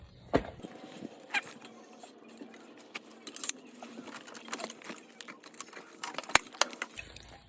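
An Icon socket and ratchet work on an FJ Cruiser power steering rack, giving faint, irregular metallic clicks and clinks scattered over a quiet background, with a few sharper ticks and no talking.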